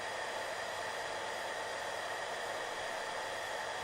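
A hair dryer blows with a steady, even rush of air throughout, close and continuous, ending with a brief sharp thump.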